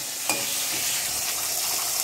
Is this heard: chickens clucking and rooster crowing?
no